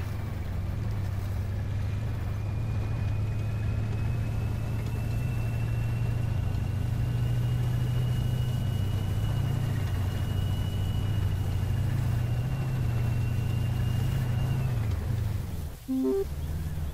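A tank engine in the video game Armored Warfare drones at a steady, loud, low rumble with a faint high whine riding above it. It ends in a short mechanical clunk, with no voices.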